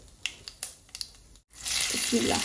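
Bay leaves, cloves, cardamom, cinnamon, peppercorns and garlic go into hot oil on a stove. A few light taps come first, then a sudden, loud, steady sizzle, with a faint voice briefly underneath.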